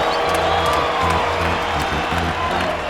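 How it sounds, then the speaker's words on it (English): A baseball stadium crowd in the MLB 2K8 video game, a dense, continuous roar of cheering and applause that stays loud throughout, with a low steady hum beneath. "The crowd is going crazy."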